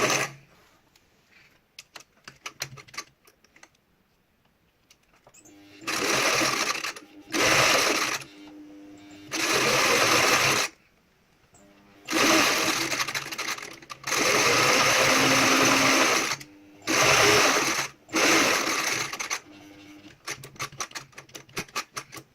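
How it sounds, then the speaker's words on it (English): A sewing machine runs a zigzag stitch through a Tyvek wallet in several loud, sustained bursts of a few seconds each, separated by brief pauses and quieter handling noises. "I'm going to use a zigzag stitch with this bit just to make it a bit easier so I can hit both sides"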